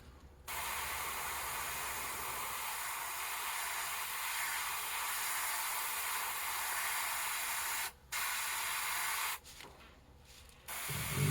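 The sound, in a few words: fine detail airbrush spraying paint on a fishing lure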